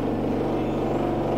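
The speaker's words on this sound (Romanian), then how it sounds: "Acum face gălăgie și mașina de spălat." A washing machine runs noisily nearby in a home kitchen, a steady droning hum with a regular low thumping pulse, continuous and fairly loud throughout.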